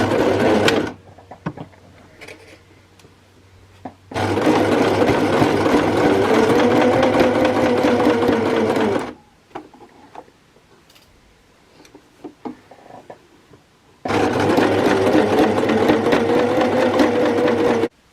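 Domestic sewing machine stitching the leg seams of homemade pyjama bottoms, running in two long steady bursts of several seconds each with a quiet pause between them and no talk.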